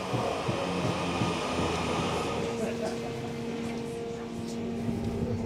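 Train running between Bolton and Lostock, a steady close rumble of wheels and carriage noise with a faint hum from inside the coach, continuous throughout.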